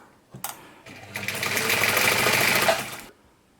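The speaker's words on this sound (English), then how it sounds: "that's quite a nice, smooth, quiet machine really, apart from the bobbin winder" A Singer 190 sewing machine whirs into motion, after a short click, with a smooth steady mechanical hum that runs close and fairly loud for a couple of seconds before stopping.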